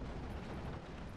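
An aircraft's 37mm cannon fires at a tank in the video game Steel Division 44, a brief, dense, rumbling burst of rapid reports that fills the short moment at an even, moderate loudness.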